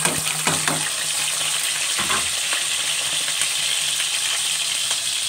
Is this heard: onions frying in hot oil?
yes